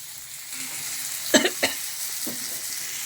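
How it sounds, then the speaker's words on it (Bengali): Crumbled chhena (paneer) frying in a pan with salt and turmeric, a low steady sizzle broken by a few quick scraping stirs near the middle, close and fairly quiet. "এবার এটাকে খুব ভালো করে ভেজে নেব"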